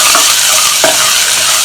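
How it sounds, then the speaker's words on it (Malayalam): Crushed ginger, garlic and shallots fry in hot oil until golden for an Onam curry, giving a loud, steady sizzle with a couple of short stirring scrapes and no voices. "ഇതിലേക്ക് നമ്മൾ ചതച്ച് വെച്ച ഇഞ്ചി, വെളുത്തുള്ളി, ചുവന്ന ഉള്ളി ഇതിട്ടിട്ട് നല്ലൊരു ഗോൾഡൻ കളർ ആവണ വരെ ഫ്രൈ ആക്കി വെക്കാം"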